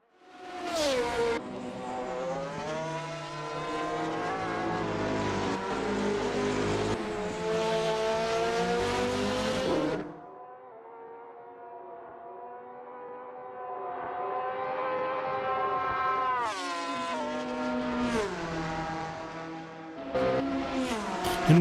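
Lamborghini race cars scream past at Classic Le Mans, loud high-revving engines rising and falling through gear changes, a brief lull, then another car roaring by close.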